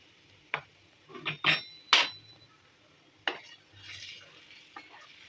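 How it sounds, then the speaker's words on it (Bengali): Two tablespoons of flour stirred into boiling oil in a pan, with a faint sizzle under several sharp metallic scrapes and clinks of a spoon against the pan, spread irregularly and up close. "ফুটন্ত তেলের মধ্যে আমি ময়দা দিয়ে দিচ্ছি দুই টেবিল চামচ"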